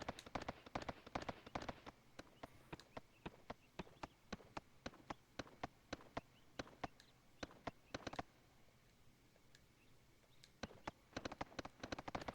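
Horse hooves clip-clop in the Suikoden 3 video game, quick bursts of sharp regular hoofbeats that pause briefly mid-way and resume, faint and without talk.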